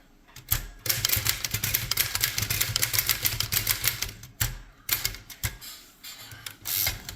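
A Royal 10 manual typewriter being typed on up close: rapid metallic key strikes in uneven bursts, with a few pauses and sharper clacks between the runs.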